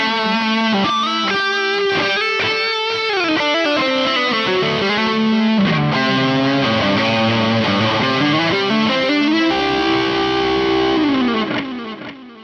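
An electric guitar through a Harley Benton DNAfx GiT multi-effect processor's distortion solo preset plays a melodic solo line with bends and sustained notes, loud and saturated, ringing out and fading at the end.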